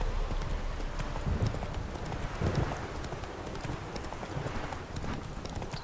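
Roach, the horse in The Witcher 3, carries its rider at a steady pace, with continuous rhythmic hoof clip-clops on the ground and faint ambient game sound beneath.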